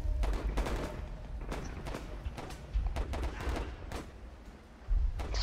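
Battlefield gunfire in the World War I video game Warfare 1917, with bursts of rifle and machine-gun fire crackling in repeated volleys at mid distance, a sharper louder shot near the end.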